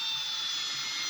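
A power driver set to torque setting 6 drives a screw with a continuous high-pitched motor whine, loud and close, lasting the whole short moment.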